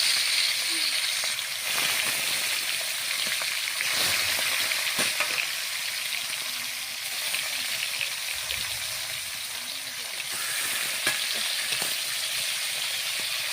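Fish fries in hot oil in a pan, a dense, continuous sizzle with occasional crackles and stirring clatter, close and fairly loud throughout.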